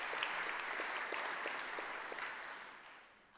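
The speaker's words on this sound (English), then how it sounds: "let's give a round of applause to all of the folks" Steady applause from a modest crowd at a conference plenary session, soft and a little distant, slowly fading out toward the end.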